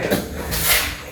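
A forced, previously locked door at a burgled boarding house is pushed open, giving a short scraping, creaking rush with a faint knock at the end, close by.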